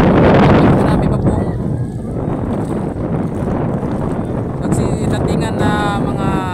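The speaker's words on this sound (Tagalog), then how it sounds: "Medyo malakas po ang hangin ngayon mga kabuko." Strong wind roars and buffets the microphone throughout, a dense rushing noise with faint creaks or whines from a boat at sea toward the end.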